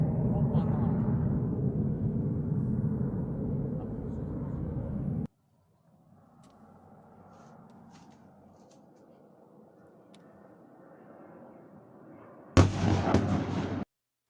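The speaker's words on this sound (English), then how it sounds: "You see it hitting the missile there and taking it down." Air defense fire intercepting a cruise missile over Dnipro, Ukraine: a sustained loud roar of firing, a quieter distant rumbling stretch, then a sudden sharp explosion burst near the end.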